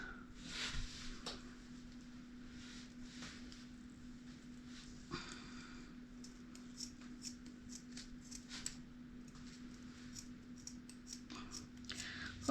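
Scattered snips and clicks of scissors cutting, irregular and fairly quiet, over a faint steady hum.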